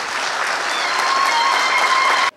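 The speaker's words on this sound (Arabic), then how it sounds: "وباسمكم ونحتاج تصفيقة وتزغريدة على شباب الحركة" Rally crowd at a presidential election campaign event breaking into loud, sustained applause, a dense steady wash of clapping with faint high ululation threading through, ending abruptly.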